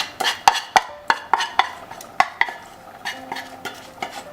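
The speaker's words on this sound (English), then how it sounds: "Now I'm going to add the sauteed onions in the lentils." Sautéed onions are stirred into a pot of simmering red lentils: a spoon clinks and scrapes in quick, sharp repeated strokes against the pot over a faint bubbling, close and alone.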